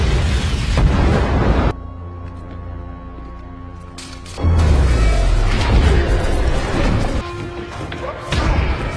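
Flashbang grenade detonating in a police SWAT movie scene inside an abandoned hangar, a sudden heavy boom and rumble followed by ringing tones and dense action sound, loud and cinematic.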